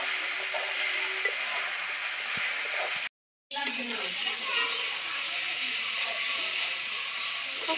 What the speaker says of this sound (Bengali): এবারে মশলার সাথে ভালো করে কষিয়ে নেব।